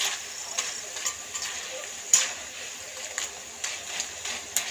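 Jackfruit pieces frying in hot oil for chakka varuthathu, a faint steady sizzle broken by light periodic scrapes and taps of a stirring ladle, quiet and close, no speech.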